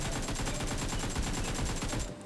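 Rapid bursts of automatic gunfire in a battle royale video game, a dense, continuous rattle of shots lasting about two seconds before cutting off.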